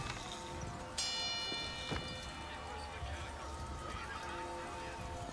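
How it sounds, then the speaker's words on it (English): Horses in the video game Bioshock Infinite, heard as steady clip-clop hooves and a brief whinny amid a busy festive street ambience with a bright chime near the start and voices in the background. "These are just some horses."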